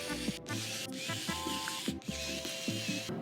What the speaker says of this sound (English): You can utilize the same exact screwdriver that you use to open the device.